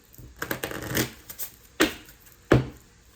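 A Moonology oracle card deck being shuffled by hand: a quick cluster of riffling flutters followed by two sharp, separate card slaps, close up and with no talking.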